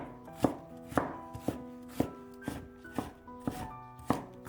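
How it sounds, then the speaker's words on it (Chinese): Knife chopping peeled carrot strips into small dice on a cutting board, about ten crisp, evenly spaced thuds with a woody ring, close and clear with no talk. "最后切成胡萝卜丁。"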